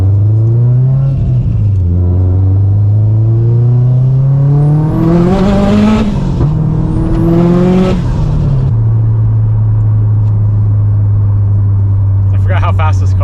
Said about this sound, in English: I forgot how fast this car was.